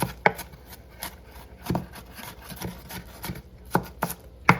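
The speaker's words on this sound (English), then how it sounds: "So I'm gonna cut these fine." Seasoning vegetables are finely chopped with a knife on a board, producing irregular sharp knocks close by, some in quick pairs and some spaced out, with no talk.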